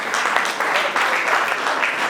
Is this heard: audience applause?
yes